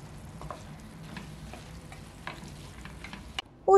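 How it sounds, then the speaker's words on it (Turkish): Soft zucchini fries in oil in a pan while being stirred, a quiet steady sizzle broken by light scraping strokes, ending in a louder clatter. "Tüm kabaklar yumuşayıncaya kadar karıştırmaya devam ediyorum."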